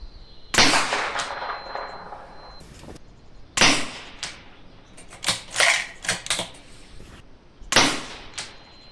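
Bergara rifle fired on a range with a stand accessoire, several sharp loud shots each trailing off in echo, interleaved with metallic bolt clacks and handling noises, no talk.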